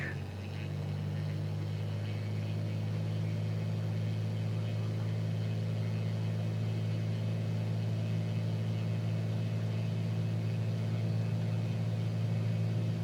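Piper Archer II single-engine propeller plane on its takeoff roll in Microsoft Flight Simulator 2020, a steady loud engine drone with a strong low hum at full power, continuous and even throughout.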